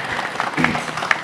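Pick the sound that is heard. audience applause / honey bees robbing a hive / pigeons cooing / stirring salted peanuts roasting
audience applause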